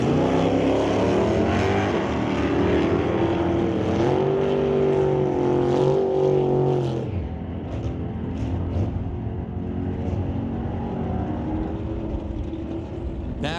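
A 1979 Chevy Impala with a 454 cubic inch big block Chevy engine roars loudly down a drag strip, its engine note rising and shifting for several seconds before dropping to a lower, steadier drone as the car pulls away.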